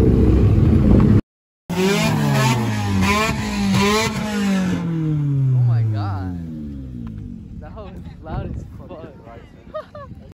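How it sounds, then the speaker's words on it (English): A truck engine revs loudly and close by, its roar sweeping up and down in pitch before fading away, followed by quieter background noise. "Is that that truck making that noise,"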